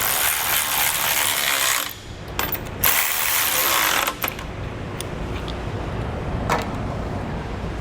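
Trailer hitch bolts being tightened on a 2022 Honda Odyssey with a loud, close ratcheting tool in steady clicking runs, broken by brief pauses and a few metallic knocks, with no talking.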